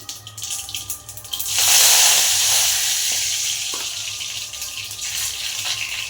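Curry leaves drop into hot oil in a pan for a beetroot stir-fry and burst into a loud, spattering sizzle that then settles into a steady, softer frying hiss.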